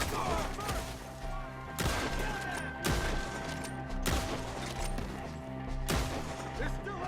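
Gunfire in Red Dead Redemption 2 during a shootout in trees, heavy booming shots at a slow irregular pace of about five big blasts over a dense din of game noise, with voices talking throughout.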